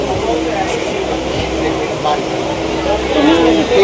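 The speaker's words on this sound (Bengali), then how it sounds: "বন্ধুরা আমরা রানাঘাট লোকালে উঠলাম" A moving Ranaghat local train rumbles and rattles steadily from inside a carriage, a loud continuous drone with people talking over it.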